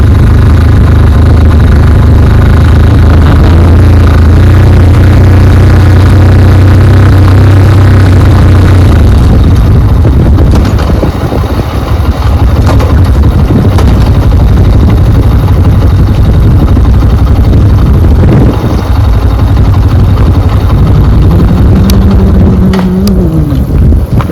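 Motorcycle engine running steadily on a hill road descending toward Koldam dam, the bike coasting in neutral; a low, continuous hum holds throughout with a rougher, broader rumble in the second half.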